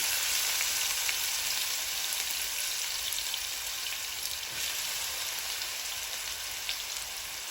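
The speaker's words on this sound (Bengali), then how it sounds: "এখন এই তেলের মধ্যেই আমি একটা ছোট তেজপাতা দিয়ে দিব দিয়ে দিব একটা বড় পেঁয়াজ কুচি" A bay leaf and chopped onion fry in hot oil, giving a continuous, close, dense sizzle that holds steady and eases only slightly toward the end, with no talking.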